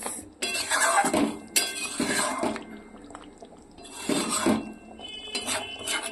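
A utensil stirs shrimp bhuna in a pan, giving irregular metallic scrapes and clinks against the cookware in uneven bursts, fairly close and moderately quiet.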